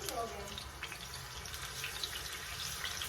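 Butter melts in a pan with garlic and heating oil, giving a faint, steady sizzle with soft gurgling pops up close, while a voice talks quietly over it.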